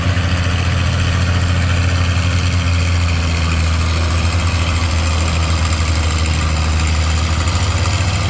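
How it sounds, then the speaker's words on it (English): The antique 88 diesel tractor at a tractor pull gives a loud, continuous, heavy engine drone with deep throbbing low rumble and steady roar throughout, no talking. "here comes Tim Albrecht on his 88 diesel"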